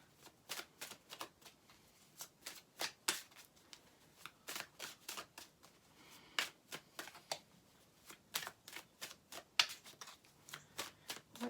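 Tarot cards being shuffled by hand: a long run of crisp, rhythmic riffling snaps repeating steadily and close up, with no talking over them.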